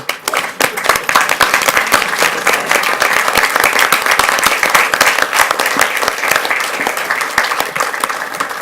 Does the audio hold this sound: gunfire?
no